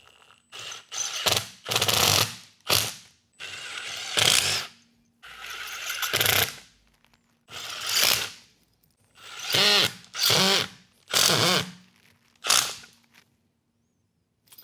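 A Milwaukee drill with a carbide bit drives hard Tapcon screws into 5,000 PSI concrete, about nine loud, close bursts of whirring, grinding and ratcheting, each a second or two long, separated by short pauses.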